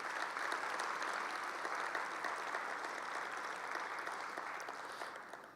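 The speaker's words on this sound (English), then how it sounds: "let's give all of them a round of applause tonight" Sustained round of applause from an audience at an evening community awards event, a dense steady clapping that holds for several seconds before easing slightly at the end, with no voices over it.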